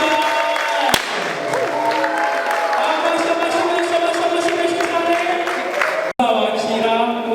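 Guests at a wedding clap loudly as a crowd while music and a voice carry on over it, a dense continuous patter broken by a brief sharp dropout near the end.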